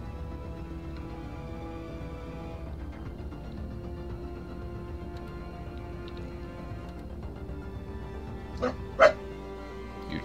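Dog barking in the game Revolution Sixty 4, heard as a couple of short, sharp yaps near the end over a steady backdrop of game music and ambience.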